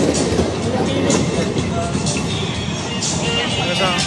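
A small amusement ride train runs nearby with a steady rumbling, rattling clatter of wheels and cars, while people chatter over it throughout.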